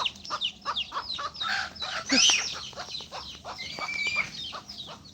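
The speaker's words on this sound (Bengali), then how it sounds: "এই দেখো মুরগির বাচ্চা" A hen clucks repeatedly while small chicks peep in bright, high chirps close by.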